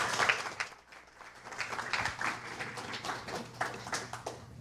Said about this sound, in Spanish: Un fuerte aplauso para Thaís.